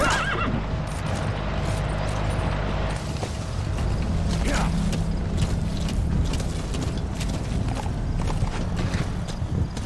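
Video-game horse D-Horse in Metal Gear Solid V neighs and gallops amid a dense, busy game soundscape, with a steady mechanical drone and a voice talking over it.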